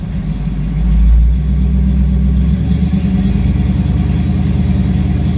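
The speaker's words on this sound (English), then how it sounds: "Let me rev it up." Chevrolet C10 truck engine, close and loud, rising in a rev near the start, then settling into a steady rumbling idle, with no talking.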